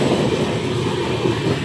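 A Pune-to-Bhubaneswar train rushes past without stopping at Rajahmundry station, a loud, steady rumble that fills the whole moment with no voices.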